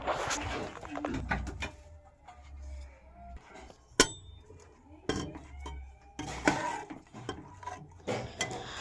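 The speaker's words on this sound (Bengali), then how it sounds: "খুন্তির সাহায্যে একটু ভালোভাবে নেড়ে দিচ্ছি" A spatula stirs goat meat in a pot while making a thin goat and potato curry, giving intermittent metallic scrapes and clinks against the pot with quiet pauses between bursts.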